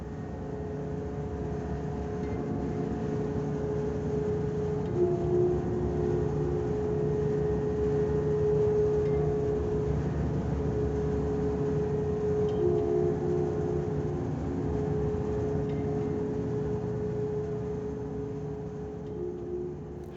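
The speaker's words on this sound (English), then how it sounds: "a ferry boat on the water with a fitting which was clanging against the side of the steel" Processed recording from a ferry boat on the ocean, with a low steady engine drone and a faint tonal clanging of a fitting against the steel hull, sustained and even throughout.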